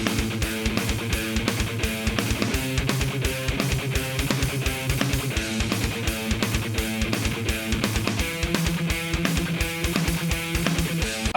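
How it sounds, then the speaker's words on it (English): Simple neoclassical harmonic minor guitar riff backing track, a loud, steady pulsing rhythm of repeated chugging notes with a drum beat under it and a brief shift in the line near the end. "You're about to hear a backing track that I created that is very simplistic"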